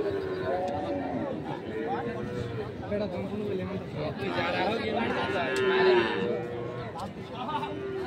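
Cattle low repeatedly at a busy village cattle market where Sahiwal bulls and calves are sold, the moos close and drawn-out while people talk and chatter around them.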